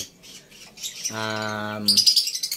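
African lovebirds calling indoors, with sharp chirps and squawks, a sustained buzzy harmonic tone in the middle and a burst of rapid high calls near the end.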